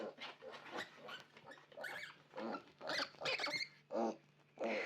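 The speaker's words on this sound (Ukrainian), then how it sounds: "Ось мама зустрічає поросяток, психує на нас." A mother sow on a pig farm grunting and squealing agitatedly at people near her three-day-old piglets, a loud irregular series of close grunts with short pauses and a low steady hum underneath.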